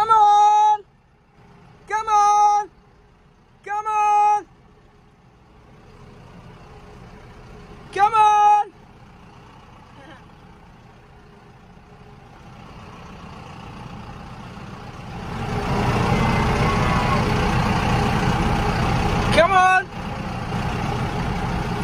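A tractor engine on a rural Australian cattle farm starts as a low rumble after several short, tonal calls, then swells into a loud, steady engine roar that holds to the end.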